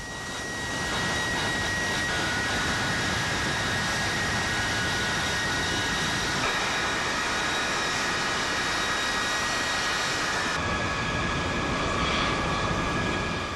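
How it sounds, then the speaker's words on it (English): B-52 bomber jet engines give a loud, steady roar with a high whine running through it, continuous for the whole stretch and shifting slightly in tone partway through. "B-52-Bomber greifen Bagdad an."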